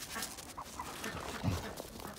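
Dogs pant and whimper close by outdoors at a rural house in Canada on a February evening while they herd chickens, a soft steady breathing sound with a brief louder whine.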